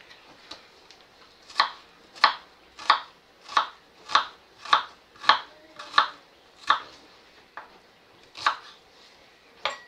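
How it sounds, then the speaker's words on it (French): A knife chopping onions on a cutting board, a steady series of about a dozen crisp, close knocks at an even rhythm, with no talking. "Donc là, on coupe les oignons."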